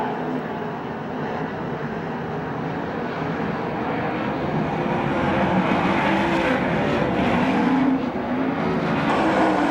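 360 sprint cars race on a dirt track at a Western World Championship event, their engines forming a loud, sustained roar that swells slightly as the pack passes close, with no voices over it.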